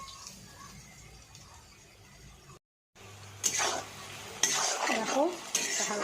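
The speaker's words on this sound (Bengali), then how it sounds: "এবার এর মধ্যে আমি ডিমটা দিয়ে আর মশলাটা দিয়ে ভালো করে কষা কষা কষা কষাই রান্না হবে" Eggs and spices cook in a pan while a spatula scrapes and knocks against the metal in irregular strokes over a faint sizzle, after a brief dropout, with no talking.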